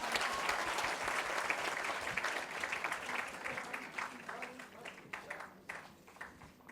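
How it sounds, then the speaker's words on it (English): Sustained audience applause at an annual session gathering for Farah Khan, a dense wash of many hands that holds steady and then gradually thins and tapers toward the end. "A really round of applause for Farah Khan."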